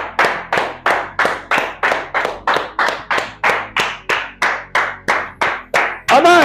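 A worship congregation claps in unison, a steady regular beat of about fourteen sharp, loud claps, then a voice breaks in at the end.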